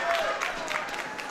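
Parents cheer and clap at a junior varsity high school hockey game between Osseo and Princeton, a steady mid-level crowd roar filling the rink without breaks.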